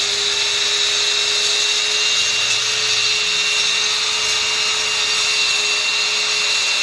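A handheld cutting machine slices into a bathroom wall to run a water line, giving a steady, loud high-pitched whine with a constant tone that runs through the whole stretch without a break.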